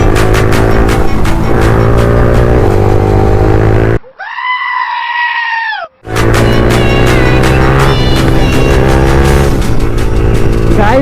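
A modified Yamaha R15 v2 motorcycle revs hard during a street race, a loud, close, continuous engine roar broken in the middle by about two seconds of a thinner, high, bleating whine before the roar resumes.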